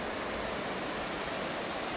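Continuous broadband rush of Dora waterfall in the Santa Ana falls area between Chile and Argentina, a steady distant roar of falling water with no voices.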